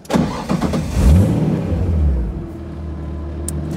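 A Nissan 240SX engine idles close by, a low, steady rumble that briefly swells at the start and then settles into an even idle.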